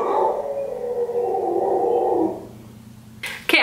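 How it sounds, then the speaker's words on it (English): A pet dog howls in a long, drawn-out, wavering cry indoors, fairly close and loud, tapering off before a brief sharp noise at the end. "She wants to bark right now."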